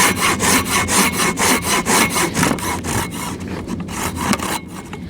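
A Silky Big Boy 2000 XL folding pruning saw cuts through wood in steady, rapid back-and-forth strokes, each rasping pull loud and close, the rhythm slowing slightly near the end of the cut.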